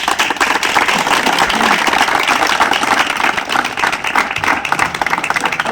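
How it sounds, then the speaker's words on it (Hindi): A large audience claps loudly and continuously for about six seconds at a police training gathering, a dense, even wash of applause with no break. "सभी मातृ शक्ति के लिए ताली दो"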